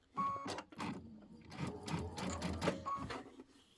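A sewing machine stitches quilt binding in short bursts of rapid needle clatter with brief pauses between them, fairly quiet and close.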